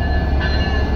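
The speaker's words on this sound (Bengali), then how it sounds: "এবং সেই সাথে ফ্রেট ট্রেনটিও চালু হয়ে গেছে।" Freight train at the newly opened Rooppur railway station, a loud, steady low rumble of rolling wagons close by, heard alone with no voices.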